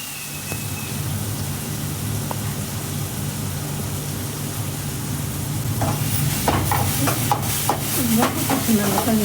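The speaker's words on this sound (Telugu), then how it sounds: "ఆ పచ్చిమిర్చి కూడా పచ్చివాసన పోయేంత వరకు వేయించాలి." Green chillies fry in a pan with a steady sizzle, joined later by the clatter of stirring. No one speaks.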